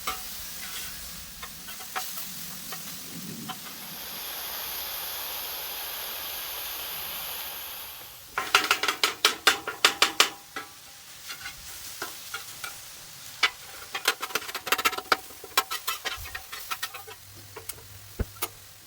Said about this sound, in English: We're going to go ahead and flip the steak, let it brown on that side